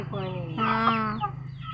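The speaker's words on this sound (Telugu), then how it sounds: "చూడండి ఫ్రెండ్స్ మా కోళ్ళు" A domestic hen in a village house yard gives a drawn-out, throaty call followed by a few softer clucks, close and fairly clear.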